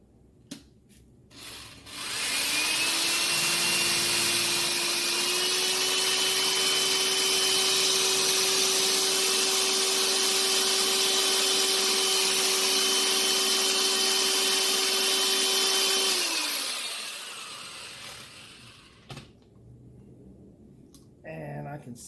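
A power drill fitted with a blending adapter whirs steadily as it stirs a runny charcoal briquette paste, spinning up, holding a loud even tone for about fifteen seconds and winding down, with brief handling sounds before and after.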